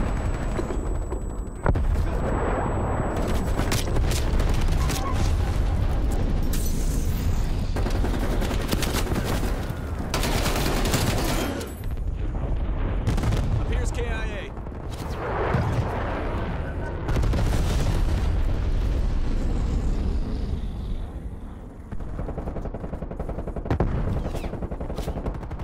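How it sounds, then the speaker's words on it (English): Call of Duty napalm airstrike: a long run of loud, rolling explosions and crackling bursts mixed with gunfire, continuous and dense across the whole stretch, with short radio-style voice callouts over it. "Sit rep, napalm strike inbound."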